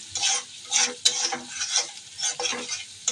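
Eggs with onion and chili being stirred in a hot pan, a close scraping rhythm of repeated strokes over a soft sizzle, with no talk.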